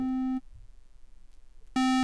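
A buzzy synthesized square wave tone from a TubeOhm Alpha-Ray synthesizer sounds briefly, cuts off for over a second of near silence, then returns, steady and loud.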